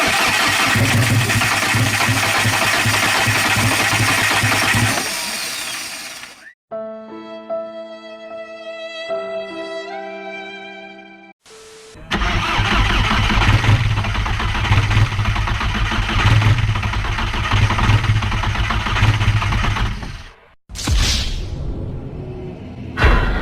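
A rebuilt, big-turbo VW GTI engine fires up loudly up close and runs at a rough idle, cuts off, then restarts and idles again with a steady, heavy rumble.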